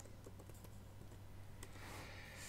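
A computer keyboard typed on at a desk, a few light, irregular key clicks over a soft steady hum, quiet and close, with no talking.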